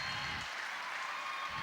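Crowd applause erupting at a girls high school basketball game in a gym, a steady broadband roar of clapping that holds loud and continuous throughout.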